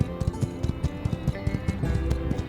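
Horse hooves clip-clop in the My Time at Sandrock video game, a steady run of close, evenly spaced hoof beats over a low game-music bed.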